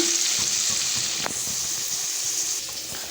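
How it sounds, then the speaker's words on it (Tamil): Ground coconut masala for a thick mutton curry gravy sizzles loudly in hot oil, a continuous close frying hiss with a brief scrape of the spoon as it is stirred, no talking. "இது கொஞ்சம் நல்லா கிண்டி விட்டுக்கலாம்னா"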